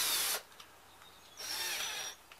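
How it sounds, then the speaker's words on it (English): A power drill countersinks 1 1/4 inch drywall screws into wood in two short whining bursts, one near the start and one in the middle, with quiet between them. "so I'm countersinking the screws"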